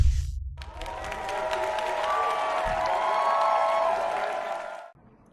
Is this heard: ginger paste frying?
no